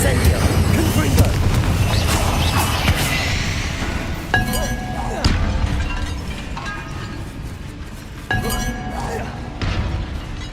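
Fire and blast spells, Incendio and Confringo, go off in Hogwarts Legacy: rumbling booms and crackling bursts with sharp glassy clinks at intervals, layered over a continuous battle soundscape.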